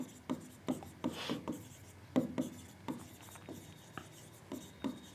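Chalk or marker writing on a board during an accounts lesson, quiet close strokes and taps in an irregular rhythm, with short scratchy scrawls between pauses.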